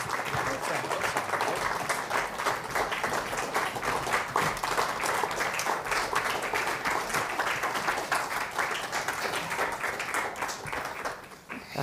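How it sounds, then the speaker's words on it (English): A conference audience claps steadily as a panel walks on stage, a dense, even wash of applause lasting about eleven seconds before tapering off abruptly at the end. "Let's please welcome our panel to the stage with a round of applause"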